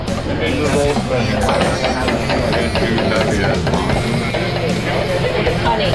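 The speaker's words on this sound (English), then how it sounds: "What we're doing now is we're grinding up the meat" A meat grinder churns cooked meat for scrapple, a steady, loud mechanical grinding and whirring that runs without pause, with a voice talking over it.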